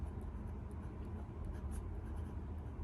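A pen laying down Diamine Starlit Sea shimmering ink scratches softly and steadily across paper, a faint close-up sound over a low background hum.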